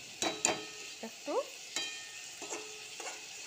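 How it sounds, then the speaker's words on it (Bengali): Spices frying in a pan while being stirred, with short scraping strokes and soft sizzling bursts spaced irregularly, close by, no talking. "ফ্রাই হোক, একটু ভাজা ভাজা হোক।"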